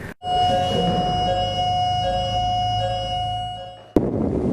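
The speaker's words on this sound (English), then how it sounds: "When the siren goes off, the clock starts ticking down." A loud, steady ambulance siren tone holds for about four seconds with traffic rumble beneath, then cuts off abruptly, on an outlying Hong Kong island.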